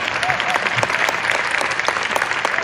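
An audience at a health talk on supplementation claps steadily and fairly loudly after an award announcement, with many hands blending into a continuous, even patter and no speech over it.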